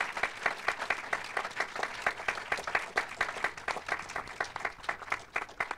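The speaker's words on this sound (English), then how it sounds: "let's have a round of applause for this amazing cast" An audience at a film Q&A claps for the cast of Giant Little Ones, dense, sustained applause with a steady rhythm lasting throughout.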